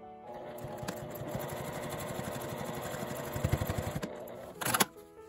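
A sewing machine runs a continuous stitch along the lower edge of a fabric L-zip wallet, a steady close mechanical whir with fast rhythmic needle ticks that ends with a brief clack.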